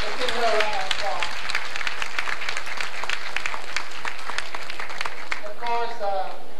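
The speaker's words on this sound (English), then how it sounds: "let's give her a round of applause" Loud, sustained applause from a crowd at a 1986 pre-social event, dense clapping filling the room, with voices calling out over it near the start and again at the end.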